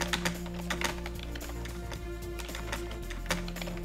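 Quick clicking keystrokes on a computer keyboard while messages are written, a close, fairly busy patter of taps over a steady low background hum.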